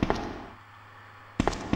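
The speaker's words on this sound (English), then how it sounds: "Let's reload our weapons." Weapons being reloaded in the video game Resident Evil 2: a couple of sharp mechanical clicks and clacks at the start, then quiet, then two more crisp clacks near the end.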